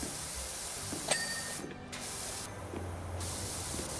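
Pressure washer spray hisses in the video game PowerWash Simulator, a steady jet broken by two short gaps as the nozzle stops and starts, with small clicks between bursts.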